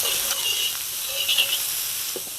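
Onion and carrot fry in oil in a pan for Ukrainian borscht over high heat, giving a steady soft sizzle and hiss with a few brief crackles and no voices.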